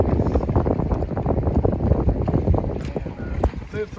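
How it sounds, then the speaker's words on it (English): Strong wind buffets a boat on open water during catfish and striper fishing, a loud steady roar with gusty low rumble across the whole stretch, and a voice speaks faintly beneath it. "since the wind's blowing so hard"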